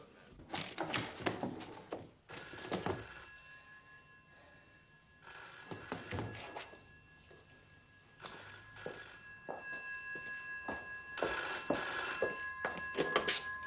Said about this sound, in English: Wasn't expecting the phone to ring.